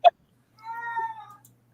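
A house cat gives a long, drawn-out meow after a brief sharp sound, alone and fairly close in a quiet room.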